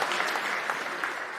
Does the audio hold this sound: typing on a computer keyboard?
no